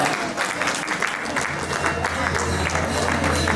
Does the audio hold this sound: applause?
yes